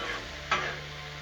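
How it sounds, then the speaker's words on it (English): Broccoli and peppers fry on a Blackstone griddle with a brief, even hiss and one short louder flare of sizzle partway through, heard close with no talk. "what I'm wanting to do with this broccoli and these peppers is just soften them up."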